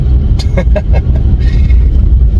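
A BMW M240i drives along a plowed snowy road, its engine and tyre noise a loud steady low rumble inside the cabin, with a few brief clicks and a voice speaking briefly.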